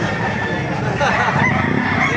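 Roosters crowing at a busy chicken market in Baliuag, Bulacan, loud and close, with clucking fowl and faint crowd babble around them.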